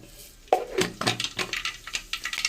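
Mustard seeds spluttering in hot oil, starting abruptly and continuing as a rapid, irregular crackle of small pops that persists close and fairly loud.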